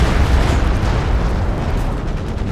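A munitions cache blowing up in Company of Heroes 2, a steady, loud, rumbling explosion roar with dense low-end boom that continues unbroken throughout.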